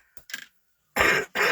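A person coughs and clears their throat nearby, a couple of small throaty catches followed by two louder, harsh coughs in quick succession, alone without talk.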